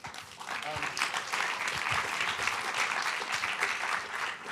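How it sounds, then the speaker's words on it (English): An audience claps steadily for several seconds, a dense, even wash of applause from a sizable crowd. "please give them a warm round of applause"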